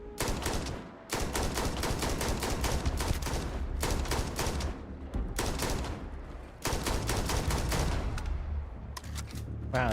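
Gunfire in the video game Starfield, sustained rapid automatic bursts nearly filling the stretch with brief gaps between volleys, loud and close.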